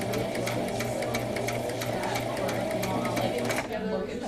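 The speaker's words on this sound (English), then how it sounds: "When you hold that down, it'll make the needle move backwards." Sewing machine running in reverse stitch, a close, rapid, steady needle clatter that stops near the end.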